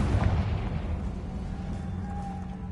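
A Confringo blasting spell from Hogwarts Legacy erupts in a deep booming explosion at the start, then a low rumbling tail fades out with a faint tonal whine near the end.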